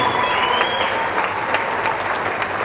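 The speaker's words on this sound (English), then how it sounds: "big round of applause for our two fighters for a fantastic contest" Spectators at a women's cage-fighting event applaud two fighters after the bout, a loud, steady roar of clapping from a large crowd that carries on without a break.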